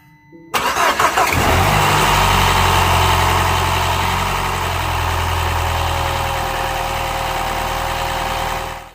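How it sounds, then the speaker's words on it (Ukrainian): An engine cranks and fires up, then runs loud and steady at close range with a deep rumbling drone, no voices: a MINI Countryman S 1.6 turbo petrol engine. "як реве двигун"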